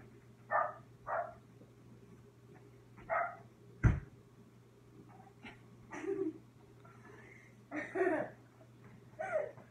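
A dog waiting outside to be let in gives short, muffled barks and whines in scattered bursts, with a sharp knock or thump partway through over a steady low hum.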